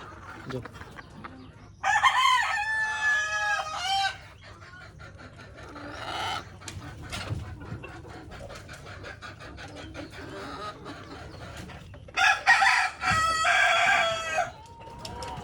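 Egyptian Fayoumi chickens cluck in a low background murmur while loud rooster crows break out twice, near and clear, with a brief bird call between them.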